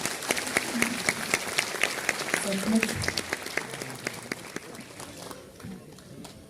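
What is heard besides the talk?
audience applause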